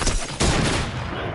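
A heavy sniper rifle in Fortnite lets off loud, booming shots, with a sharp blast near the start and a heavy reverberating tail filling the short moment, close and without talk.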